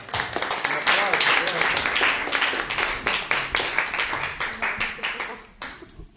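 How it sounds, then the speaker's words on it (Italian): Audience applause at a gathering, many hands clapping together in a steady patter that gradually thins out and stops. "un applauso"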